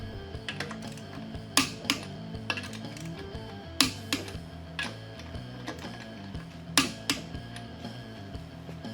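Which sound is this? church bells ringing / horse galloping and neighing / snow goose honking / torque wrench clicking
torque wrench clicking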